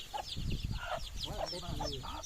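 Native village chickens cluck up close in short, repeated calls, with a low human voice murmuring underneath.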